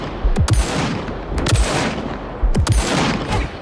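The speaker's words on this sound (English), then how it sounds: "My god, multiple shots." Gunfire in the video game Vampire The Masquerade Bloodlines 2: three loud, sharp shots spaced about a second apart, each with a booming low tail, and no talk.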